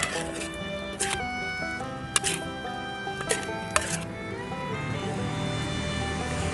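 Pork stir-fried without oil for Southern Thai khua kling in a pan, with a sharp spatula clack every second or so over a soft, steady sizzle and background music.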